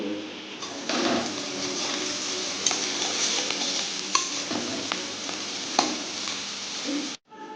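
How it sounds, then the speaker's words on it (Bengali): Bata fish fries in a pan with a continuous close hiss and spatter, punctuated by a few sharp clatters of utensils, before the sound cuts off abruptly near the end. "এখন আমি বাটা মাছ ভাজছি"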